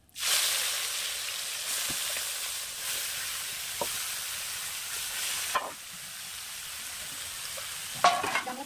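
Goat meat dropped into hot oil with whole garam masala, dried chillies and bay leaves: a sudden loud sizzle that settles into steady frying, with a few utensil knocks and a fresh surge near the end, no talking.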